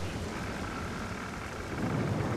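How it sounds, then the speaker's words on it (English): Steady rain falls with a low thunder rumble in the game Skyward Sword, a continuous hiss that swells slightly louder toward the end. "Ah, great, it's raining."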